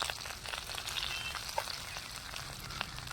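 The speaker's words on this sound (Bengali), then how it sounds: "সামান্য হলুদের গুঁড়ো দিয়ে একটু ভালো করে ভেজে নিচ্ছি।" Okra frying in a pan with salt, giving a soft, steady crackling sizzle with scattered faint pops, close and fairly quiet.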